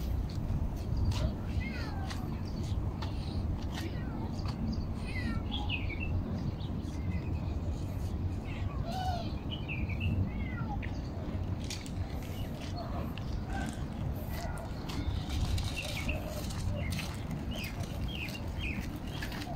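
Several stray kittens in Kuwait mew in high, thin, overlapping cries against a steady low background rumble, with a few chirpy bird-like calls scattered throughout.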